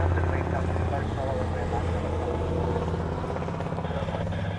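Aircraft engines rumble steadily at Honolulu Airport, a loud continuous low drone with propeller-like throb, heard under someone talking.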